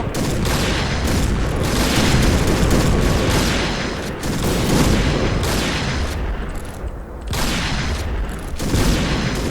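Dense, loud gunfire and booming shots pound almost nonstop in the online shooter Point Blank, with brief gaps between heavy volleys and no clear talk.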